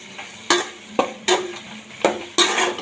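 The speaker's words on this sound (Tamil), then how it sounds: "இந்த முள்ளங்கியை வந்து அப்படியே இதில் கொட்டிடணும் கொட்டிட்டு மறுபடியும் நல்லா வதக்கி விட்டுக்கணும்" Radish being sautéed in a pan for sambar, with repeated scraping stir strokes of a spoon against the metal pan over a soft sizzle, close and rhythmic, with no talking.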